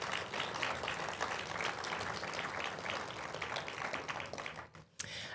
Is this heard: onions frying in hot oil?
no